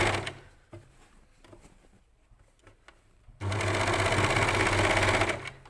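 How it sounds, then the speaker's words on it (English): An overlocker runs along a waistband being attached to summer shorts, starting with quiet fabric handling and soft clicks, then bursting into a loud, fast, steady machine chatter for about two seconds before stopping. "I've got the waistband on top as I overlock around"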